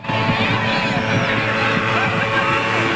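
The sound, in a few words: strong wind blowing into microphone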